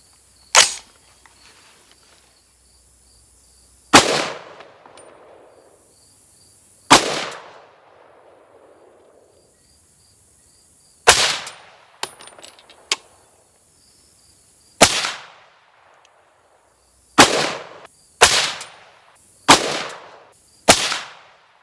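Suppressed AR-10 rifle firing .308 rounds, about eleven sharp reports spaced irregularly with short decaying tails, the later shots coming in quicker succession, loud and close with no voices.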